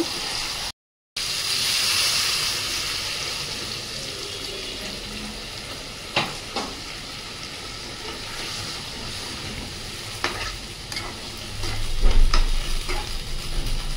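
Chicken that has been braised dry in a pan sizzles and hisses as a little water is poured in, a steady frying crackle broken by a few sharp clinks and stirring scrapes. A louder low rumble of bubbling swells near the end.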